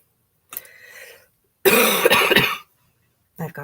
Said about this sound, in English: I've got that nasty cough